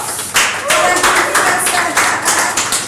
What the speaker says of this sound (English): please let's give a round of applause to our moderator